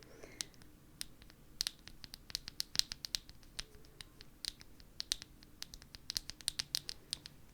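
Old sticky tape being handled up close gives a string of crisp, light clicks and ticks, scattered irregularly and quiet, with no voice over them.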